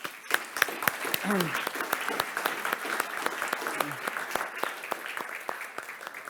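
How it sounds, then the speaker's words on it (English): A conference audience applauds the keynote speakers, with sharp individual claps standing out over a dense round of clapping, mid-distance, while brief voices murmur underneath. "I think one big round of applause to both our keynotes, please."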